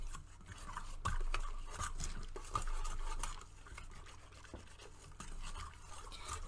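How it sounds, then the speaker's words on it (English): Bubble paint mixture being stirred in a container, with steady scraping, swishing strokes and occasional liquid drips close by, no voices. "Give it a good mix."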